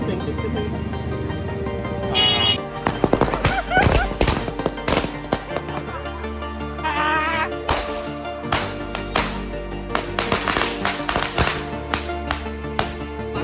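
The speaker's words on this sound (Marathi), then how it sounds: "आता आमच्या राहिलेल्या ज्या फटाके आहे बघा तर ते वाजवूया" Firecrackers go off at a family gathering for a Tulsi Vivah celebration: a string of loud, sharp bangs and crackles bursts in irregular rapid clusters, with a brief whistling rocket-like hiss near the start, close and echoing throughout.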